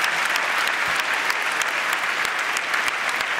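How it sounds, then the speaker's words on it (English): A large audience applauds after a debate on the Russia-Ukraine war in Toronto, dense continuous clapping filling the hall at an even, loud level. "Let's give a big round of applause for a terrific debate"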